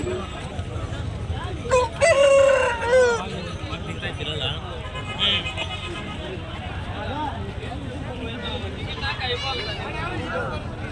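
Roosters crow amid a busy crowd at the Galiveedu poultry market, with voices and chatter running underneath; one crow stands out clearly early on, others are fainter and distant.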